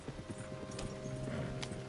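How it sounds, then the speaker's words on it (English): Horse hooves beat a quick, steady clip-clop rhythm in the Red Dead Redemption 2 video game, close and fairly quiet over a low hum of background game sound. "Damn it, John, you'll run the horses into the ground."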